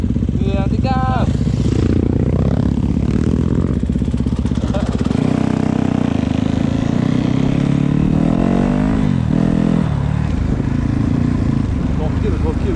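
A Yamaha YZ250FX enduro motorcycle engine drones loud and steady throughout on the Cirangsad enduro trail, rising and falling with throttle revs, while people talk over it now and then.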